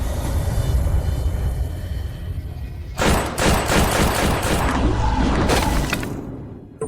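A rapid volley of gunshots fired at a ghost bursts out after a rumbling lead-in, dense overlapping cracks rattling on for several seconds, loud and close, then cutting off.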